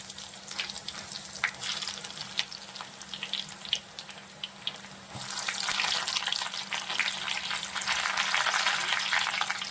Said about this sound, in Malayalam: നമുക്കിനി അതിലേക്ക് ചെറിയ ഉള്ളി ഇട്ട് കൊടുക്കാം അതുപോലെ തന്നെ ഉണക്കമുളകും കൂടി ഇടുവാണ്